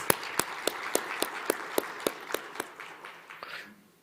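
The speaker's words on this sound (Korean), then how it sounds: "우리 박수 한번 합시다." Church congregation applauding during a Wednesday revival prayer service, with a distinct rhythmic unison clap roughly every quarter second that gradually loosens into scattered clapping and fades out.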